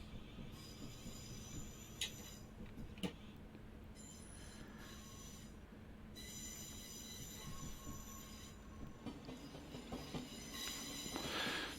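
A Class 707 electric train runs from London Cannon Street toward Hastings in Train Simulator Classic. Wheels squeal in high, sustained tones over a constant rolling rumble, with a few sharp clicks along the rails.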